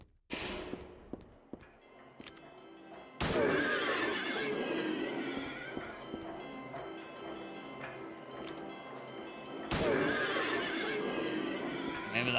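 Horses neighing in the Silent Hill 3 video game, with two loud whinny bursts over a busy bed of game sounds and some clattering hoof-like noise between them.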